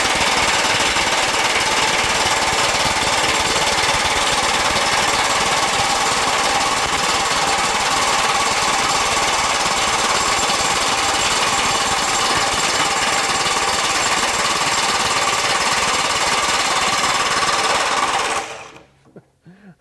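A Kobalt XTR 24V high-torque impact wrench runs at speed 1, giving a loud, continuous rapid hammering that goes on for about eighteen seconds before it stops abruptly, close up and with no voices.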